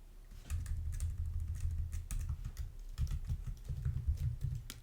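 Rapid keystrokes on a computer keyboard while writing Java code, a steady close clatter of clicks lasting the whole stretch, with no voices.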